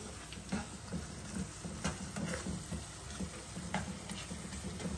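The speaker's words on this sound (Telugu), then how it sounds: "ఉల్లిగడ్డలు అయితే ఫ్రై అవుతున్నాయి" Onions frying in a pan, a steady low sizzle with scattered clicks and scrapes of stirring, close and alone without talk.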